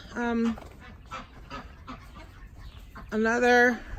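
Chickens in a backyard cattle panel coop let out two loud, drawn-out squawking clucks, one at the start and one near the end, with quieter scratchy rustling between them.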